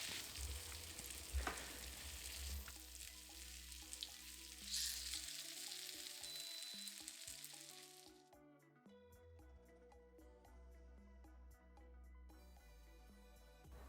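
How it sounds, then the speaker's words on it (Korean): Rice cakes stir-frying in cooking oil with green onion for oil tteokbokki over medium heat, a soft sizzle with occasional stirring, quiet and close under a tonal music bed. "이제 떡을 모두 넣고 떡이 부드러워질 때까지 타지 않도록 저어가며 볶아주세요."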